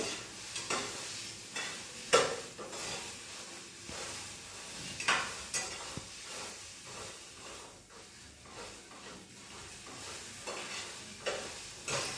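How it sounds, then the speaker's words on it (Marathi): Pigeon pea grains dry-roasting in a pan and being stirred, with scraping stir strokes and occasional sharp knocks over a soft steady hiss, close up and without speech. "हे बघा छान भाजल्या गेले हे असे चटके लागले याला असे चटके लागेपर्यंत भाजायचे"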